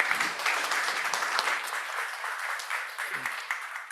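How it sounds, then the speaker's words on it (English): Steady applause from a conference audience at a EuroDIG 2024 session on future connectivity, a dense wash of many hands clapping at even volume for several seconds, slightly fading near the end. "many applause"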